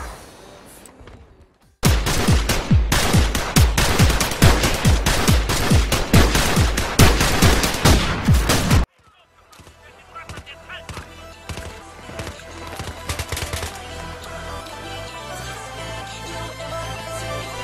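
Assault rifle fire in the video game Battlefield 3: a loud, rapid string of shots lasting about seven seconds, then a sudden cut to quieter, scattered in-game gunfire and battle noise.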